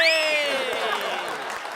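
Studio audience applause at a Tamil comedy show plays beneath a rising, sliding musical sting, clapping steady and fairly loud throughout.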